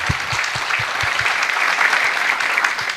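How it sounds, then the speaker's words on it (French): Loud audience applause at a Moroccan conference on industrial digital transformation, a dense, even clapping wash with a few heavier low thumps near the microphone. "des applaudissements"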